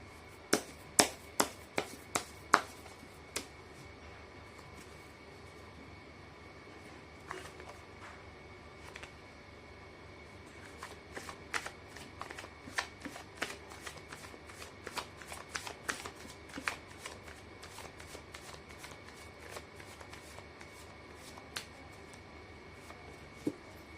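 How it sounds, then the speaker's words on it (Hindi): Tarot cards being shuffled by hand in a quiet room, with a quick run of sharp riffling snaps at the start followed by scattered bursts of crisp card flicks and taps, close up and with no speech. "मैं कर लेती हूँ कार्ड की शफलिंग।"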